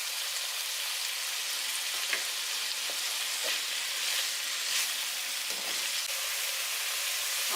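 Bacon and garlic leaves stir-fry over medium-high heat in a home kitchen, giving a continuous loud sizzle and hiss close up, with occasional scrapes and clinks of a spatula stirring in the pan. No one speaks.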